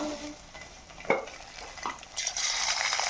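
Food dropped into hot oil for frying, a steady hiss and sizzle building over a few seconds with a clink of a utensil against the pan, heard close up.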